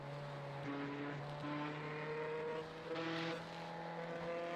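A race car in the iRacing sim game, apparently broken down, gives a steady droning engine note with layered harmonic tones that shift pitch slightly, continuous and fairly close for the whole stretch.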